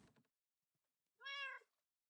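Minecraft cat gives a single clear meow near the close, following a brief faint rustle, with otherwise silent surroundings.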